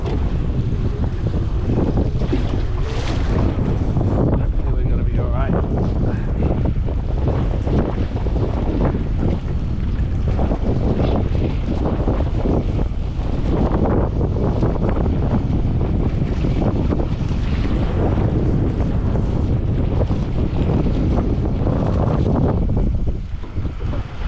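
Strong wind batters a fishing boat at sea in bad weather, a loud continuous roaring rush with microphone buffeting and wave wash throughout.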